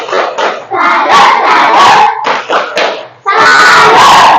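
A class of schoolchildren perform a salute clap, chanting together in loud bursts with rhythmic claps and short pauses between phrases, close and energetic.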